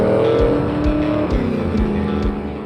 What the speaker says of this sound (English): It's a mighty 7-litre aluminium-blocked V8 running carbs and a dry sump and spitting out 625 horsepower.